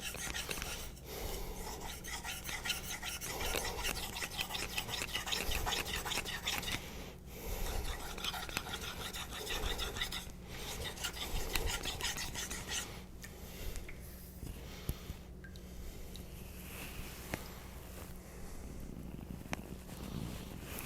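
A convex-ground knife is stroked steadily across a Naniwa diamond whetstone for a satin finish, giving a continuous close rasping scrape with brief pauses between passes and no talk.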